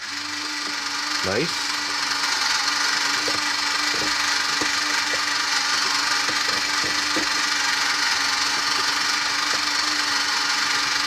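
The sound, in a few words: Kenner Easy Bake Mix 'N Make baking center mixer running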